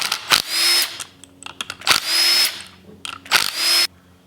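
Power tool, likely an impact driver or drill, unfastening the clutch on a 1981 Yamaha YZ250 two-stroke engine during teardown, heard in three loud close bursts of whirring and rattling separated by short clicks and clatter, with no talk.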